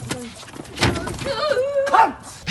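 A wolf snarls and yelps in the VGA remake of King's Quest II as the hero stabs it with a sword, with short growling bursts and a rising whine, fairly loud and close.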